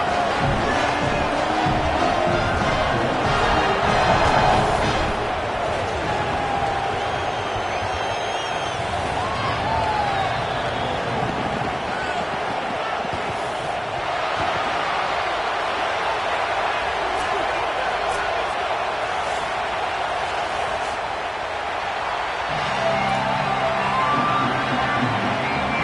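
A packed stadium crowd at a Texas college football game against the Hurricanes roars continuously before kickoff, a dense, loud wall of cheering and shouting that swells and dips with scattered whoops.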